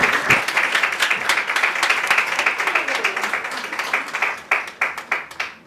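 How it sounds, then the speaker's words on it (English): An audience claps for Maleka at a women's real estate event, a dense round of applause that holds steady and then thins into scattered, separate claps near the end. "So with a round of applause, let's put our hands together for the beautiful Maleka."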